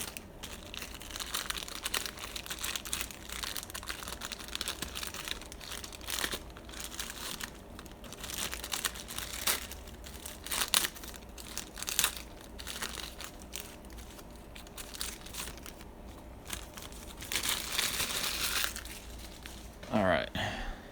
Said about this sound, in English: Now I've got this trifold pack we're going to rip open.